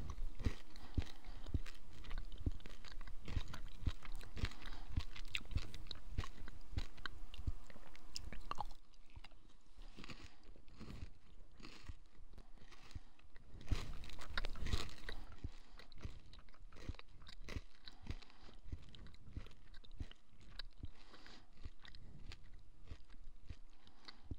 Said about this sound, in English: Now I'm just waiting for this loading screen while eating a crunch bar.